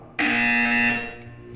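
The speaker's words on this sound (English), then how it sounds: "You will hear a buzzer." A harsh electronic buzzer in the video game Portal 2 sounds once, loud and flat for under a second, then cuts off, followed by a couple of faint clicks.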